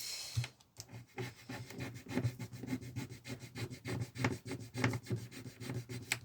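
Lottery scratch cards being scratched with quick repeated rasping strokes, close up and fairly quiet, in an uneven rhythm of short scrapes with no voices.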